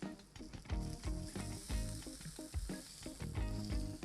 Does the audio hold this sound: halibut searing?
yes